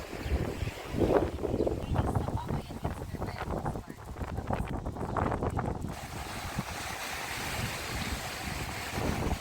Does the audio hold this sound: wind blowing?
yes